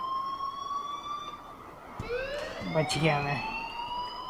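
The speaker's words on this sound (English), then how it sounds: "please turn off that alarm since that's your job" Electronic alarm in the video game Life is Strange, steady high tones ringing on, then a rising siren-like sweep and warbling pulses, with a voice speaking over it.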